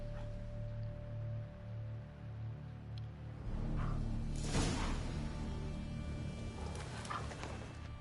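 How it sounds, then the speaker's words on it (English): Tree leaves rustle in The Witcher 3 video game, a soft, airy swell of rustling that rises midway and lingers faintly to the end. "Swear I hear sobs in the rustling leaves."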